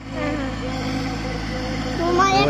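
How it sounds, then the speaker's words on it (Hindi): Small Kubota A211N mini tractor engine running at a steady idle on a farm field, a constant mid-pitched mechanical hum close by that rises slightly near the end. "ये छोटा मिनी ट्रैक्टर चल रहा भाई"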